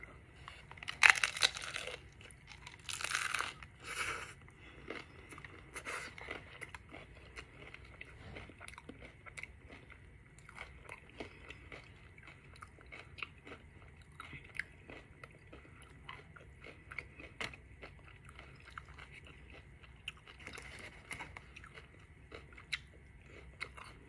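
Loud crunching bites into a Taco Bell crunchy taco at the start, followed by quieter steady chewing and scattered crackles of the shell, close up and with no talking.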